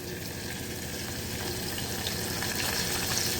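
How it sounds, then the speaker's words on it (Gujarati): Curry leaves sizzle in hot oil with garlic for sprouted moong and moth beans, a steady, dense crackling hiss that stays close and even throughout with no talking. "હવે આપણે એમાં મીઠો લીમડાના પાન નાખશું"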